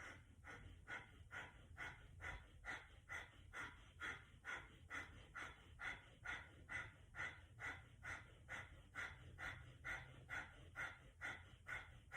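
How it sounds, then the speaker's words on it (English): Rapid, rhythmic yoga breath of fire, forceful nasal exhalations pumping in a steady quick pulse for the whole stretch, close and moderately loud with no talking over it. "we're going to breathe the breath of fire as we align our energies"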